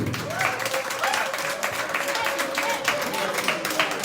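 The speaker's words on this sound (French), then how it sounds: "Est-ce qu'on peut acclamer pour Fabregas Maestro?" Crowd applauds for Fabregas Maestro, a brief, steady patter of clapping from a large audience at moderate volume, mixed with some murmuring.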